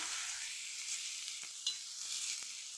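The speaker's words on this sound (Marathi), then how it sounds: "परत याला असं परतून घेणार आहे गॅस कमी ठेवायचा" Brinjal stir-fried in a pan over a low gas flame, a steady soft sizzle with a few faint stirring taps, no talking.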